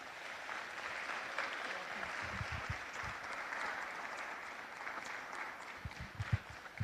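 Applause at a city council meeting in Homestead, a faint, steady patter of clapping from a small audience heard at a distance, with a few louder claps near the end.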